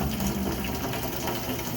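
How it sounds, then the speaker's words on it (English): Tap water runs steadily into a pail in a small-town bakery, a continuous close gushing and splashing with no voices. "we'll get started with the pail of water going"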